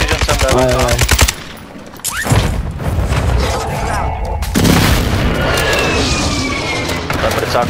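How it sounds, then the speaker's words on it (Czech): Bursts of rapid automatic gunfire and booming shots rattle loudly in Call of Duty Warzone 2, with Czech voices talking over the shooting. "Zprava někdo střílí po nás."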